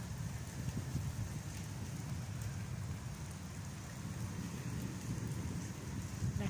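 Steady rain falling on a rainy day in Mohamed bin Zayed City, UAE, a continuous soft patter with a low rumbling undertone throughout, no speech.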